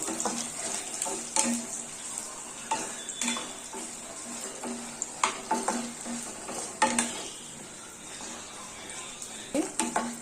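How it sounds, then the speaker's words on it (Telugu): Red chillies, cumin seeds and coriander seeds dry-frying in a pan, with soft sizzling and repeated scraping stirs and clinks of a spoon against the pan at an irregular pace. "తర్వాత ఎనమిరపకాయలు జీలకర్ర ధనియాలు అన్నీ వేసుకొని కలుపుకోవాలి ఇలా అన్నీ వేసి కలుపుకొని దూరగా వేయించుకోవాలి"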